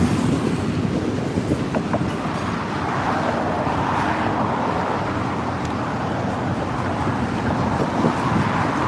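Freight train with intermodal cars passing close by in Stuart, Florida, a continuous heavy rumble with rhythmic clickety-clack of wheels over rail joints, steady and loud throughout.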